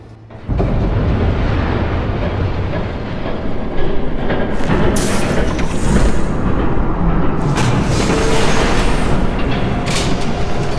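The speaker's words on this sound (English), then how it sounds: "There's a train coming." A train rumbles past in Batman: The Telltale Series, a loud, continuous roar of wheels and rail noise that builds with hissing bursts and stays heavy for the whole stretch.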